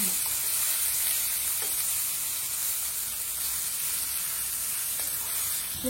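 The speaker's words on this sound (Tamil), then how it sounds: "கத்திரிக்காய் சாந்து மாதிரி வதங்கணும்" Eggplant (brinjal) fries and sizzles steadily in a pan, loud and close, a continuous hiss broken by soft scrapes as it is stirred.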